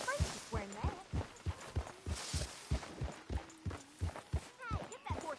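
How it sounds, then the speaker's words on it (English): Horse hooves clip-clop at a steady walking pace in Red Dead Redemption 2, a regular string of soft thuds heard close, with voices talking over them. "Hey, get that horse out of here."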